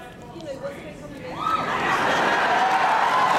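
A studio audience at a talk event breaks into cheering and crowd noise that swells and holds loud after a brief stretch of quieter voices.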